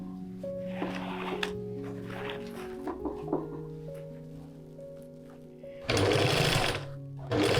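Sewing machine stitching along the bottom of the outer layer of 18th-century stays, a steady mechanical whir with overlapping tonal hums, louder and busier near the end.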